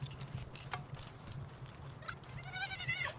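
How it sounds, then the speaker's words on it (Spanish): Sheep bleating in the video game Palworld, a brief wavering bleat rising near the end over a steady low game hum, with a few faint clicks earlier. "No sé por qué siempre me viene a ayudar la segunda oveja."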